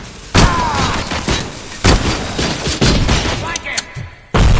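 Gunfire and explosive impacts from the Robocop Rogue City video game, with loud bursts and thuds scattered unevenly over several seconds, mixed with sounds of combat.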